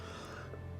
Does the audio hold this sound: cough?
yes